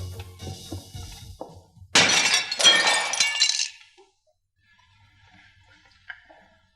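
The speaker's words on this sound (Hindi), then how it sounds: "अब ये शीशा टूट गया, कौन जिम्मेदार है इसका?" A glass window shatters loudly, apparently struck by a ball from a street game, with a burst of crashing and tinkling shards that lasts about two seconds before fading to quiet.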